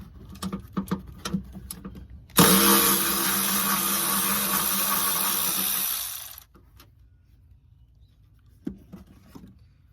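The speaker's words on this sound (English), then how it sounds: "we'll start by undoing this 10mm nut" A tool undoes a 10mm nut on the firewall of a 120 Series Toyota Prado, a loud whirring burst lasting about four seconds, framed by light clicks and handling knocks before and after.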